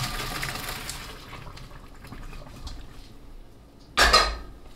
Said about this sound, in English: When the pasta is done, drain it out